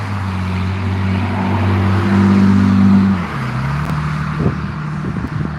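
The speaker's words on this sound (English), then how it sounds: "Wow, Dodge Intrepid just drove by." A Dodge Intrepid drives past loudly on a street, its engine hum rising to a peak and then dropping in pitch as the car moves off, heard close by over a quieter street background.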